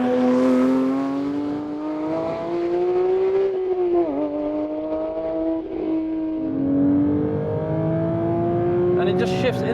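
Porsche 911 GT3 with a manual gearbox under way, a loud steady engine drone rising in pitch, dipping sharply at a gear shift around four seconds, then pulling again, with someone talking over it.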